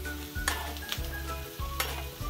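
Fresh young mushrooms tossed into a pan with lightly browned onion, crackling and sizzling steadily, with soft stirring scrapes coming in short repeated bursts.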